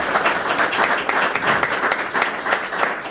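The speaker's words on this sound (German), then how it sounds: "Applaus dafür." A studio audience breaks into sustained applause for a young entrepreneur who won a business award, dense steady clapping from many hands filling the room with no talk over it.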